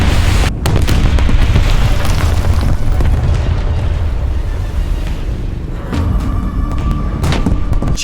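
A 5,000 kg bomb dropped from a PE-8 bomber detonates in the War Thunder video game, a loud, deep, rumbling blast that roars on, with a second heavy burst swelling partway through.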